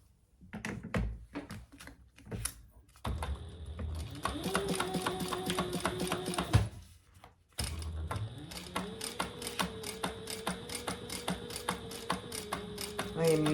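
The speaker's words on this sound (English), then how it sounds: "let's just top stitch that" Sewing machine top stitching vinyl with Tex 45 thread, starting with slow separate needle taps, then running in steady rapid bursts around a short pause, close and moderately loud.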